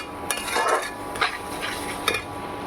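Paneer is stirred and sautéed in oil in a pan: a steady sizzle runs beneath repeated metal scrapes and clinks of the spatula in uneven bursts.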